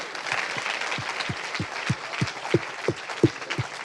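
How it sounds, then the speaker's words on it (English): Audience applauding first-year medical students at a live grand rounds presentation, a steady wash of many hands clapping with a few louder near claps standing out, no talking over it. "Give them a round of applause"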